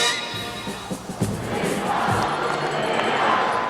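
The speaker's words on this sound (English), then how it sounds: "A sellout crowd in suburban Chicago at the horizon to see two of the nation's top independent teams" A sellout basketball crowd at the Rosemont Horizon arena in suburban Chicago, DePaul hosting Notre Dame in 1981, roars in a loud continuous wash with shouts and cheers rising and holding throughout.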